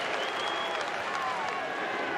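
A stadium crowd at a 1993 rugby league test between New Zealand and Australia at Mount Smart Stadium cheers and applauds in a dense, continuous roar.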